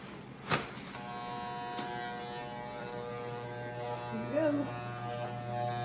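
Electric hair clippers run with a steady buzzing hum while cutting the top of the hair, close and continuous, with a brief louder knock near the start and a faint voice-like pitch sweep toward the end.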